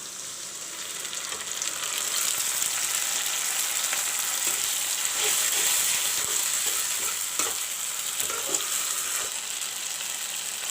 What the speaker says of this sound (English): fry the masala